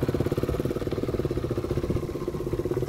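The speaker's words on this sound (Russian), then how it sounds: "Простой одноцилиндровый мотор," A KTM RC390 single-cylinder motorcycle engine idles steadily up close, its low, even putter pulsing in a regular rhythm.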